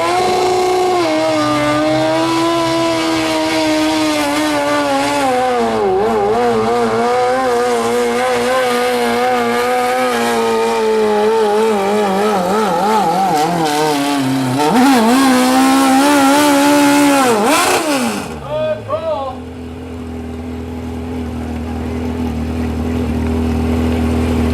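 A 1,200-pound modified lawn tractor, motorcycle-engined, roars through a truck and tractor pull run, its loud engine climbing and wavering in pitch for about eighteen seconds before cutting back to a lower rumble.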